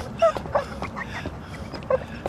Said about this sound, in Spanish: Un perro herido puede ser muy peligroso.